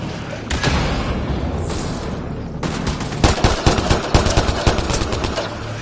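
Enemy gunfire in a video game firefight, a dense, steady roar of shots that turns into louder, rapid bursts of cracks in the second half, close and intense, with no clear speech.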